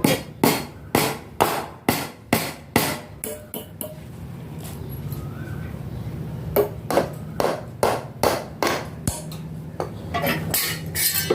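Hammer driving nails into the side of a door frame set in cement, with sharp metallic blows in quick regular bursts, a pause of low background hum, then another run of evenly spaced strikes close by.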